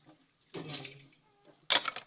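Water running from a tap into a kitchen sink during washing up, heard in short separate gushes with quiet gaps between them, the last burst brighter and louder.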